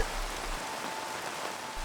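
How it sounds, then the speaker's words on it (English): Rain from a Minecraft audio mod patters steadily on surfaces, a soft, dense and even rainfall with no voices over it. "Rain dropping on soft, sound-absorbing materials like wool will create a soothing sound"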